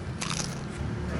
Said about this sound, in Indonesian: Kita coba pangsitnya,